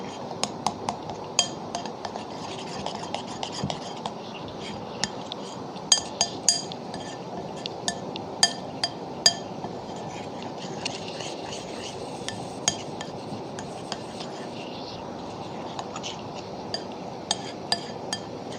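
A spoon clinks and taps against a bowl while a thin batter with two spoons of hot sauce is mixed for a zinger burger, with repeated light scattered knocks over soft stirring.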